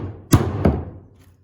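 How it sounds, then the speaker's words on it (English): Two solid blows of a 28-ounce hammer driving a nail strike close by, a heavy thud followed by another about a third of a second later, then a faint third tap trailing off. "I've got to swing it a few extra times to drive that in"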